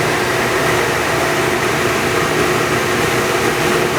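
A Revolution Hybrid duct vacuum running steadily, producing a loud, constant broadband roar with a low hum beneath, unchanging across the whole stretch with no speech.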